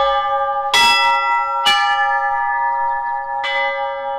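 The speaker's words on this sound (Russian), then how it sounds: "Дети с удовольствием позвонили в колокола на звоннице." Church bells are struck by hand in a bell tower, three clanging strikes with rich, long-ringing tones that sustain and overlap, close and loud.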